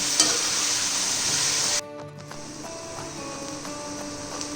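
Finely chopped onions frying in ghee hiss with a loud, dense sizzle that suddenly drops to a quieter, steady bubbling frying sound with faint clinks, no voices.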